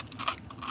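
A bite into a crunchy corn dog gives a short, close, crisp crunch with a couple of crackly bursts in under a second, and no voice over it.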